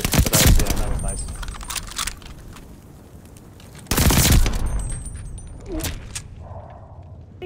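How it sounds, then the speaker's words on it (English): A Tommy gun fires in Call of Duty: Vanguard, heard as two loud bursts of rapid automatic shots with quieter game noise between them. "I just have a low level Tommy gun to kick straight up"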